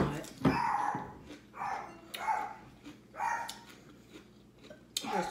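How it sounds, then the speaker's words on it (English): A dog named China lets out several sharp barks and yips close by at a seafood boil, spaced irregularly across a few seconds, with voices around. "Excuse China for barking."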